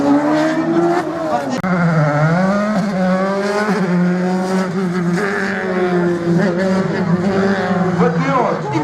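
A Dallara F305 single-seater race car at a slalom event at Agon-Coutainville screams loudly and close, engine pitch rising and falling through gear changes with faint tire squeal, a commentator talking over it.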